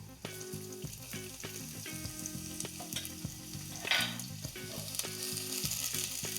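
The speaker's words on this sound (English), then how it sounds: "The garlic has the perfect consistency. Now we're gonna add our red onions." Red onions going into a hot pan of garlic for puttanesca sauce: a steady, dense sizzle with crackling bursts and a brief rise in spatter near the middle, close up with no voices.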